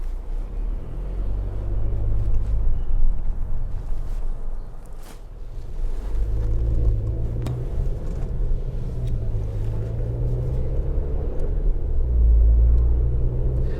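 A 2026 Jetour T2 SUV on the road gives a steady, loud low rumble of engine and tyre noise, broken by brief bumps and steady wind hiss throughout the drive.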